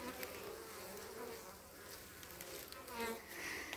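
Honeybees buzzing in front of a very active beehive, a dense continuous drone of many insects, close and steady with no speech.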